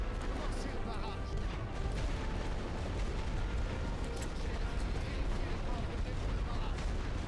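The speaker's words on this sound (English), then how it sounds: "Tir de barrage ordonné. Commencez le barrage." An artillery barrage rumbles in The Great War: Western Front, a dense, continuous roar of distant shell fire and blasts at steady loudness, with voices talking over it.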